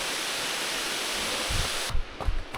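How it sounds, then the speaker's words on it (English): Continuous rushing roar of a waterfall in Kondalilla, Sunshine Coast Hinterland, fills the whole clip, with a few low thuds near the end. "There's the beautiful waterfalls."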